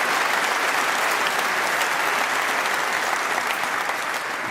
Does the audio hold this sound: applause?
yes